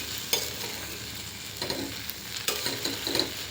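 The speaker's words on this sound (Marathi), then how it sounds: "अशा प्रकारे आपल्याला ही भेंडी छान परतून घ्यायची आहे" Okra sautéing in oil in a pan, with a soft continuous sizzle broken by a few close scrapes and stirs of the spatula.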